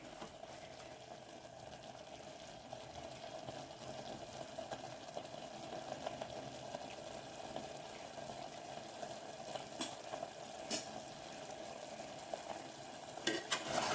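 Mutton gravy with ground coconut paste is stirred and sautéed in sesame oil, giving a soft, steady low sizzle with light scraping stirs and a few sharper clinks toward the end.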